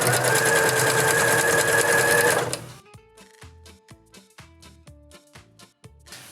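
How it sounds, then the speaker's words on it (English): A sewing machine stitches back and forth over elastic sewn into fabric, first a loud steady whirring run, then a series of short stop-start bursts with mechanical clicks. "we've got to make sure that we sew right over the top of it and maybe go over it a couple of times"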